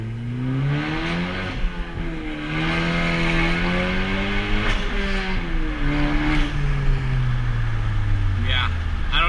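A 10th-generation Honda Civic Si engine with a catless downpipe rumbles and revs up and down steadily throughout, its low exhaust drone continuous and close, with voices talking over it.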